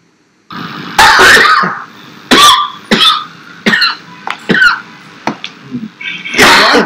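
A series of harsh coughs, loud and close, in irregular bursts with short pauses between, ending in one more forceful cough.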